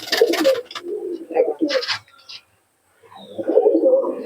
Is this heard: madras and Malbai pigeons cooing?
yes